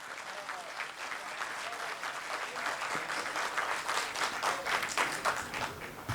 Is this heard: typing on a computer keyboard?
no